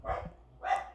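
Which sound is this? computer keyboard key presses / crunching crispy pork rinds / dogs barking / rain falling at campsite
dogs barking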